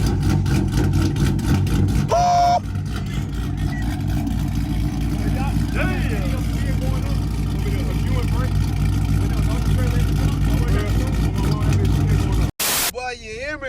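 A 5.7L car engine runs after a torque converter install, a steady low rumble held near and loud throughout, with brief higher noises and a sharp cutoff near the end.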